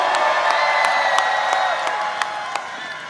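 A room full of students cheers, whoops and shouts at a Korean conference event, a dense sustained crowd roar with scattered claps and a few sharper yells rising above it.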